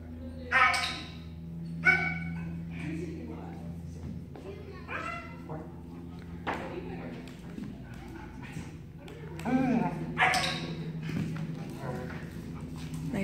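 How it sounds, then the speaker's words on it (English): A nine-month-old German Shepherd barking on command during off-leash obedience play, several sharp barks spread across the clip at close range, with a handler talking and praising in between. "Nice little bark on command."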